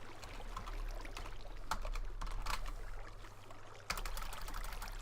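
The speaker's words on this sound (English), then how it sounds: "I swear I can't type some days, especially when I'm typing in the wrong field." Quiet clicking of computer keyboard keys during a Minecraft modded server session, short bursts of keystrokes over a low steady hum, fairly faint and close.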